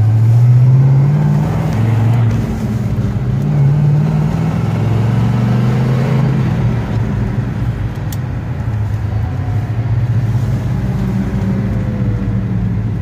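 A 1971 Oldsmobile Cutlass rolls along on a test drive, its engine a steady, fairly loud low drone with a slight swell and easing of revs, heard alone with no talking.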